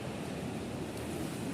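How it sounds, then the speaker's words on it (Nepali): Waterfall tumbling beneath a bridge after rain on a hike near Rani waterfall, Bhaktapur: a steady, dense rushing roar of falling water, close and continuous with no voices. "अब तल चाहिँ झर्ना छ एउटा"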